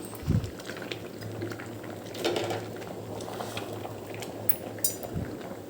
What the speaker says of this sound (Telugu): ఇంకా ఉడకాలి మెత్తగా ఉడకాలన్నమాట